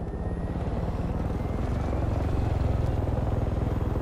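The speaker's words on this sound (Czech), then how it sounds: "Já si vezmu ten vrtulník, teda pokud to přežil." A helicopter in the Far Cry 5 game spins up with a loud, steady rotor chop and engine drone that builds slightly, a close, continuous whir with no voices.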